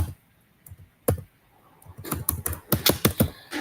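A computer keyboard clatters with a few isolated key taps, then a quick burst of rapid, close, fairly loud typing.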